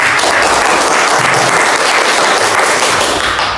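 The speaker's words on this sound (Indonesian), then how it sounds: "Aplaus dulu untuk Intan." Students in a classroom applaud, giving dense, loud, steady clapping that fills the whole moment with no voices over it.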